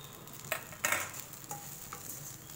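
Aval upma, made from flattened rice, is stirred in a pan: quiet scraping and a few sharp spoon taps over a faint, soft sizzle.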